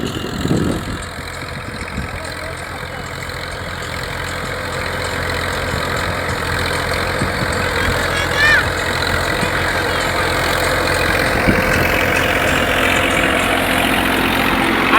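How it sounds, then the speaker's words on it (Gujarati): A tractor running a rotavator through an onion field gives a continuous loud engine drone with broadband rumble and clatter that holds steady for the whole stretch, close by and with no voices over it. "જુઓ ટ્રેક્ટર ચલાવી રહ્યા છે રોટાવેટર"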